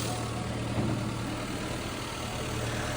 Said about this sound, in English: Let's give it some more revs too, see if the ticking is still there.